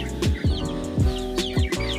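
Ducks on a farm, a flock of almost thirty, give a run of about five close, short, harsh quacks in an uneven rhythm, with faint bird chatter in the background.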